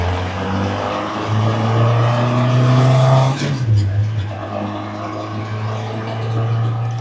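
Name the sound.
Rad Rod SR3 car engine and exhaust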